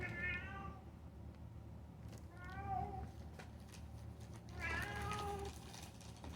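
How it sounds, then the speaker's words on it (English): A house cat meows three times at irregular intervals, each a clear moderately loud cry over a constant low room hum. "That's my cat going off."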